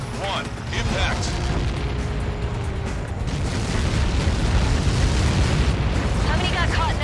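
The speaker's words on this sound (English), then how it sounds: "How many got caught in that explosion?" A massive impact explosion in the Ace Combat 7 flight combat game, a loud sustained rumbling boom that swells and rolls on for several seconds, with radio voices and chatter faintly heard over the blast.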